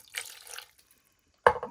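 A small splash of water is poured into a pizza sauce of red wine and tomato, a brief trickle followed by a quiet pause and then a sharper liquid splash up close.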